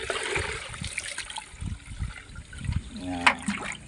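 Water gushes from a faucet into a container, a lively splashing stream that rises and falls under a person talking nearby.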